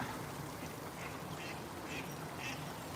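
Ducks quack faintly at a park lake, scattered calls rising over a steady outdoor wash of background noise.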